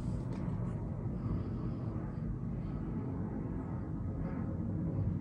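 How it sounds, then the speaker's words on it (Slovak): An airplane passes low overhead, a steady loud broadband engine rumble that holds at constant strength throughout, with no talking. "zrovna ide lietadlo"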